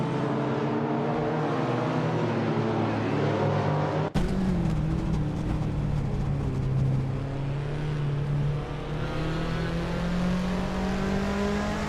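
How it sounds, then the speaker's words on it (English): A 1987 Mitsubishi Galant VR-4 races in a video game, its engine droning continuously and rising in pitch as it accelerates, cut by a brief gap before the roar resumes, with no talk. "Darth Blazer is driving a 1987 Mitsubishi Galant Viva 4"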